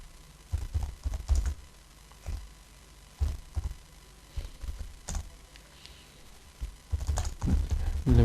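Typing on a computer keyboard, quiet clusters of clicks and key taps coming in irregular bursts with short pauses, close by over a low hum.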